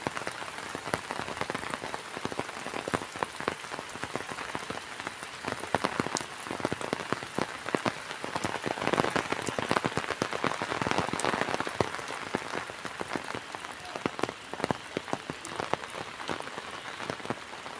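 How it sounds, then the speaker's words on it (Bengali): Heavy rain pours down steadily on surfaces outdoors, a dense, unbroken hiss of drops and patter lasting throughout, close and loud. "অঝরে বৃষ্টি ঝরে।"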